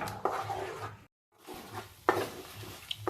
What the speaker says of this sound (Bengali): এবার এটা খুব ভালো করে পাক দেব যাতে আমি এটাকে মানে মিষ্টির আকারে গড়তে পারি